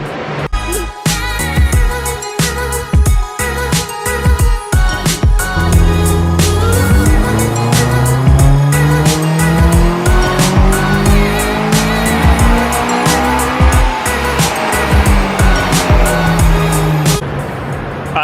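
A Honda Accord Euro CL9 with a K-tuner ECU revs hard on a dyno, its engine note sweeping up through the range loudly and steadily, with sharp transient bangs throughout.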